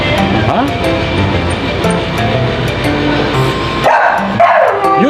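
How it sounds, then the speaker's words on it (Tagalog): Chloe, a family's new dog, gives a few quick yapping barks and whimpers close by, mixed with people talking over her. "I want you to meet our new dog, Chloe"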